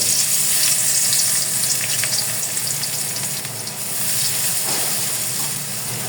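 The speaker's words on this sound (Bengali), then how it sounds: "হালকা আর একটু আমরা ভাজবো তেলে পেঁয়াজটা" Chopped onions fry in hot oil for a katla fish curry with stalks and potatoes, making a loud, steady, close sizzle that holds without a break and has no talk over it.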